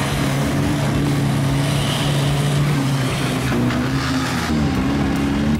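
Troller AP off-road jeep on a muddy trail at a jeep club event in Chapecó, its engine droning steadily and rising as it accelerates, with a continuous loud motor tone throughout.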